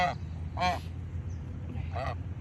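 Geese honk in a few separate bursts close by, over a steady low rumble of background noise.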